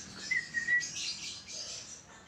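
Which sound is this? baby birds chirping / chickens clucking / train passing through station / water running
baby birds chirping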